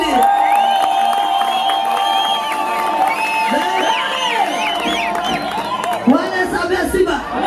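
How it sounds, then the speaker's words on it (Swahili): A church congregation shouts with joy, cheering and ululating in long wavering trills that rise and fall over a dense, steady crowd noise, with whoops and voices overlapping throughout. "Hebu shangwe na vikilikili."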